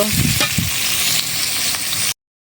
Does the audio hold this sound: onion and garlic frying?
yes